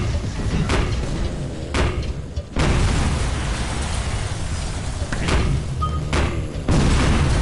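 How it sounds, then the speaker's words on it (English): Bullet bill launcher blasting in the Tower of Guns video game: a series of loud, booming explosive shots at irregular intervals over a steady rumble, each burst heavy and close. "I'm shooting frickin' bullet bills"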